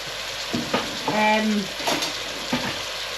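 Gravy poured into a hot sizzling pan of onions with Worcestershire sauce for French onion soup, loud frying crackle rising and falling in bursts, close up, with a faint voice in the background.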